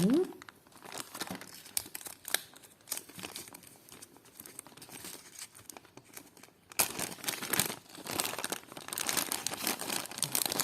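Paper packets holding vintage jewellery crinkle and rustle up close in repeated handling bursts, growing louder and denser toward the end.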